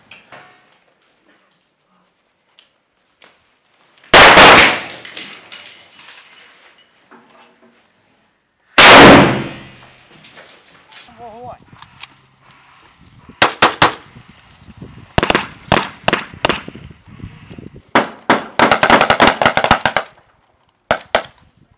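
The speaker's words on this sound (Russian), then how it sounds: "Граната!" Military training for Ukrainian troops in the UK: two loud, sharp blasts several seconds apart stand out, followed by rapid bursts of gunfire and clattering shots, with brief voices between.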